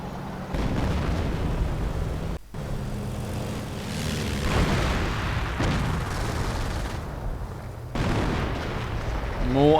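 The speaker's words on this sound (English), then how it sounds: "Artillery going in." Artillery barrages in Company of Heroes, a Soviet ISU-152 firing during a 2v2 match, rumble as dense, continuous booms and blasts throughout, with a brief dropout mid-way and louder impacts near the end, under running commentary.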